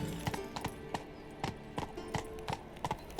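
Steady clip-clop of a horse's hooves from The Witcher 3 on the Isle of Mists, a regular trotting rhythm of distinct, close, fairly loud hoofbeats with no voice over them.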